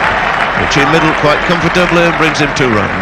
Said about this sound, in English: That's a roar of applause from the crowd.